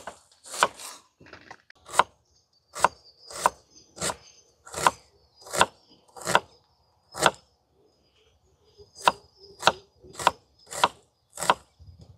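Onions are sliced thinly with a knife on a board, sharp crisp chops in quick bursts with a brief pause midway, close and clear.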